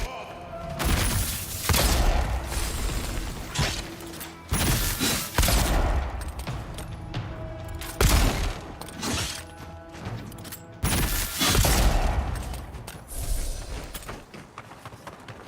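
Repeated bursts of gunfire in the fantasy game Avowed, with loud shots and clattering impacts arriving in clusters across a desert battle, separated by brief lulls.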